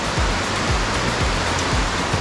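Steady, loud rushing water of the Fiery Gizzard River swollen after a week of rain, a dense unbroken roar close by with faint low pulsing surges underneath.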